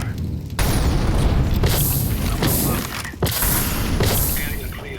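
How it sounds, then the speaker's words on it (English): Incendiary grenades thrown in a tactical shooter match: repeated loud booming whooshes of fire bursting, separated by brief gaps, dense and close, with a player's voice calling out over the blasts. "Incendiary out. Throwing fire."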